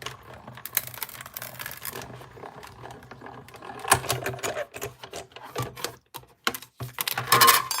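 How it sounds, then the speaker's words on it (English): A die cutting machine pressing a small glossy paper haunted house between its plates gives a rapid mechanical whirring and clatter in bursts, with sharper clicks and thumps near the end and no talk. "this is my die cutting machine. I am going to take my little haunted house and set it on here"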